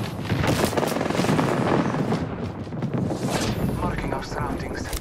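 A Bangalore artillery strike in the video game Apex Legends: loud, dense rolling barrage of blasts and gunfire-like booms for several seconds, thinning toward the end, with a voice talking over it.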